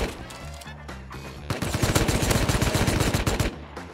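Rapid, loud bursts of automatic gunfire from the rarest weapon in the video game Rust, a dense volley of shots firing back to back with short quieter gaps before and after.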